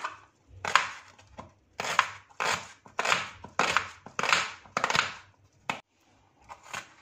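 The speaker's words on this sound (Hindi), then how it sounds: "जी, इसके साथ ही 2 दरमियानी साइज के प्याज ले लिए हैं। इन्हें कटिंग कर लेंगे।" A knife cuts two medium onions on a board in a series of crunchy chops, about eight distinct bursts in a loose rhythm, close and clear. No one speaks.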